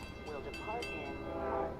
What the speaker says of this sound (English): Okay, so here comes our train,